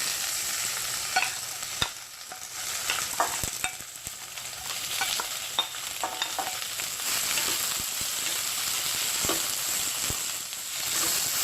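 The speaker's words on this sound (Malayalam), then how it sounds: "വെളിച്ചെണ്ണ ചൂടായതിനു ശേഷം അതിലേക്ക് നമ്മൾ അരിഞ്ഞു വെച്ചിരിക്കുന്ന സവാള ചേർക്കുക." Chopped onions frying in hot coconut oil, a steady close sizzle broken by repeated scraping strokes of a spoon stirring through the pan.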